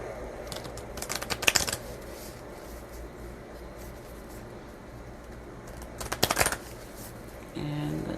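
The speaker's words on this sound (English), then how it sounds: "And let's shuffle and grab a card." A Moonology oracle card deck riffled in two quick bursts, soft and near, separated by quiet room tone, with a brief faint voice at the end.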